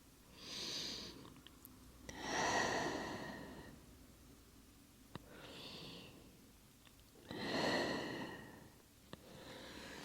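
Slow deep breaths during a yin yoga session, four long soft inhale-exhale swells spaced a few seconds apart, close and quiet, with no talking.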